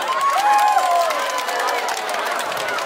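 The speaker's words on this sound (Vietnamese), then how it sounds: "Một tràng vỗ tay lên đi ạ." Audience applause at a Vietnamese matchmaking show: a steady, dense wash of clapping and crowd noise with some cheering voices mixed in, loud and continuous throughout.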